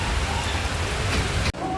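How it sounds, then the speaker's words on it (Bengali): Heavy rain pours outside a hotel in Lava as a dense, steady roaring hiss that cuts off abruptly near the end. "আর ঠিক দেখো প্রচণ্ড বৃষ্টি"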